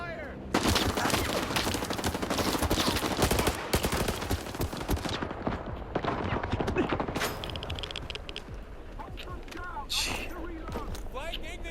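Heavy gunfire erupts in S.T.A.L.K.E.R. 2, with bursts of automatic shots and loud reports close by, thinning out later as voices shout amid the combat.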